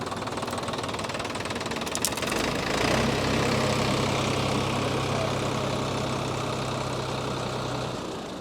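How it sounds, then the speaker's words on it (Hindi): A Solis 50 HP 4x4 tractor with a 24-gear transmission idles steadily throughout, its engine giving a constant, moderately loud low rumble that settles into an even, sustained hum with no breaks. "तो आइडलिंग साउंड अब सुनिए कि आइडल में ट्रैक्टर कैसा आवाज़ करती है"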